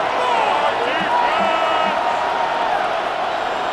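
Stadium crowd cheering in the Madden NFL 26 video game during a Bengals versus Ravens match, a loud continuous roar with whoops rising over it.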